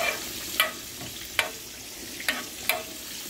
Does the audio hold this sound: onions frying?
yes